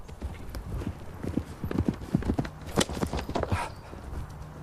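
Horse hooves pound in a fast, rhythmic gallop during a mounted lance charge, close and loud, with scattered thuds and a brief shout.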